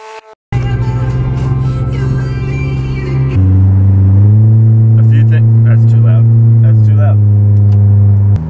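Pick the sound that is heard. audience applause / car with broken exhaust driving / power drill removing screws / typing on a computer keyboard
car with broken exhaust driving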